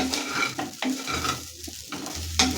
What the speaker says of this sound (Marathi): ते असं हलवून मिक्स करायची कमी गॅसवरती